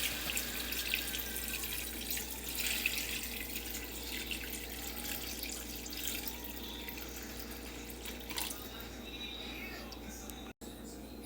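Rice-washing water trickles and splashes into a cooking pot of chicken tinola, a faint steady liquid pour with small drips over a quiet kitchen background.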